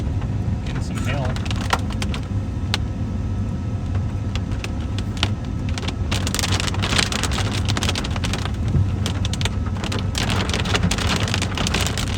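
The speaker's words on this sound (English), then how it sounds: "Getting some hail." Hail falls hard and steadily during a storm, a dense continuous patter and clatter on surfaces with sharper impacts scattered throughout, loud and close with no pauses.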